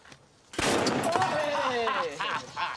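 Gunfire from the film The Pirates of Somalia bursts in as loud, rapid shots that run for a couple of seconds, with voices speaking alongside.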